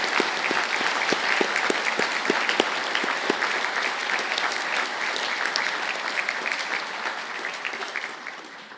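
Sustained audience applause for graduating Business Information Systems students at an ATU Galway conferring ceremony, steady and full from start to finish with a few sharper individual claps, fading slightly at the end.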